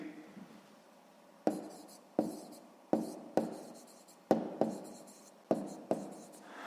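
Pencil strokes scratch across paper while a sixth-grade math exercise is worked out: nine short, sharp taps and scrapes in an irregular rhythm, close and fairly quiet, with no voice.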